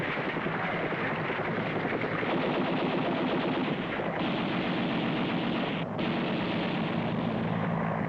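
Sustained, dense gunfire and machine-gun bursts in Vietnam War combat, loud and continuous, forming an unbroken wall of noise with no clear speech.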